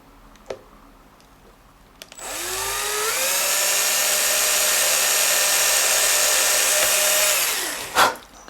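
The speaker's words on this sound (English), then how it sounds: "What we need to do is just drill some holes, so all nice and easy, nice simple drill." A drill bores holes in the back cover of a Fender Stratocaster Custom Shop guitar, its motor whining up to a steady, loud pitch for about five seconds before stopping, with a few taps before and after.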